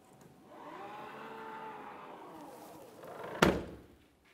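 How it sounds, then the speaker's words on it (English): A power liftgate on a Jeep Grand Cherokee being pushed shut by hand: a low, steady whir for about three seconds, then a single sharp thud as the gate latches. "The next thing we have to do is manually close the liftgate."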